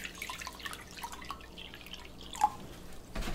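Distilled water pours into a glass measuring cup, a faint, quiet trickle with one small drip-like plink partway through.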